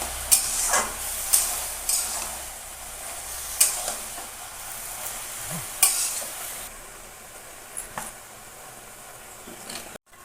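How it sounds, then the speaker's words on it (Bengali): Fish heads being stirred into taro leaves in a pan, with a spoon scraping and clacking in spaced strokes over a soft frying sizzle, fairly close and with no talking. "পাতাগুলো দিয়ে দিচ্ছি ভালো করে মাথাগুলো মিশিয়ে নেব কচু শাকের সঙ্গে"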